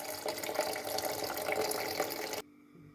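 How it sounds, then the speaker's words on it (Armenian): Grains being rinsed under a running kitchen tap, a steady close splashing stream of water that stops abruptly near the end, leaving near quiet. "Հիմա մի լավ լվանանք"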